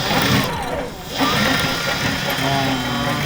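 The electric motor of a homemade robot that pulls a rickshaw runs with a steady, buzzing whine and a brief dip in loudness near the start, while people talk over it.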